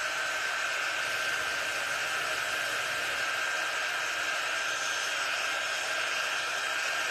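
A hair dryer blows steadily on wet paint in a corner of festive stripe-and-plaid decor, a continuous loud airy whoosh filling the whole span with no talk.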